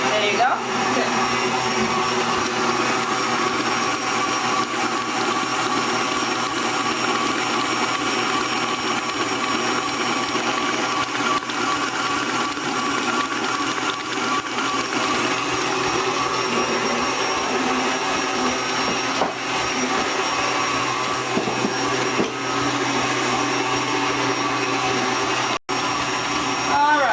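A stand mixer whirs steadily on medium speed while beating cake batter, a loud, continuous motor drone that holds without pause for the whole stretch.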